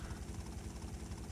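A helicopter in GTA Vice City gives a steady, low, throbbing rotor drone that holds evenly and alone for the whole moment.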